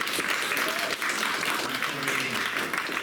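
An audience at a creative writing series poetry reading breaks into dense, continuous applause, loud and even from start to finish, with faint voices mixed into the clapping.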